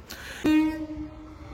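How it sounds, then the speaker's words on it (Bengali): A local train on the Sealdah–Namkhana line pulls into a station, giving a sudden sustained horn-like tone that rings out clearly over the background rumble, then trails off. "দেখতে পাচ্ছেন সেই ট্রেন আসছে,"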